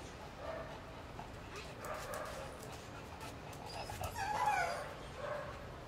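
A dog moves about during an indoor treat memory test, with a few soft yips or whimpers and light footfalls audible at moderate distance, faint room noise throughout.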